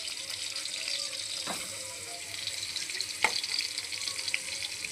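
Paneer pieces fry in hot oil with a steady, soft hiss and sizzle, broken by a couple of brief clinks of a utensil.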